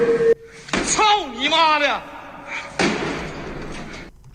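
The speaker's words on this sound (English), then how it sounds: "No, I think he kicked the door in." A door is kicked in during a scary ghost clip, a heavy slam and thud heard close, while excited voices talk and react over and around the impact.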